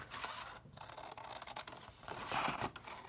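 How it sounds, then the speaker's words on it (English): Scissors snip and slice through paper in a few crisp strokes, with scraping and rustling in between, close up. "I'll get my scissors out"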